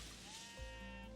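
A single sheep in Necesse gives a short, faint bleat, a brief wavering tone alone against quiet game background.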